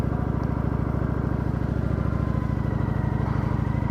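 A 2015 Kawasaki Vulcan 900 Custom motorcycle with a five-speed gearbox rumbles steadily while being ridden, a loud, even, low engine throb heard up close.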